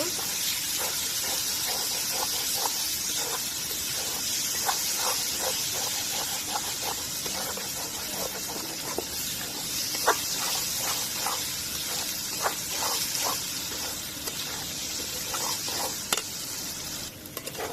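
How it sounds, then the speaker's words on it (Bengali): Dal bhuna, a lentil masala, braises in a pan with a little water, giving a steady close sizzle with a dense scatter of small crackling pops throughout. "জল দিয়ে একটু কষায় নিব"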